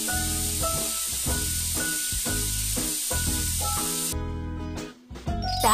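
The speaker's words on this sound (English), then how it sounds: "The steam makes the conditioner work more effectively." Steady hiss of a steamer during a cartoon doll's hair spa treatment, running continuously for several seconds over bright, rhythmic background music, then dropping out near the end.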